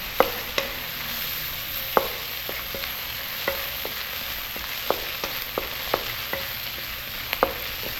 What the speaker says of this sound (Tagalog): Yan, gisa na po tayo.